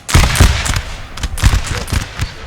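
Musket volleys in Napoleon: Total War crackle in a jungle battle as sharp, loud overlapping pops, bunched in a few quick clusters.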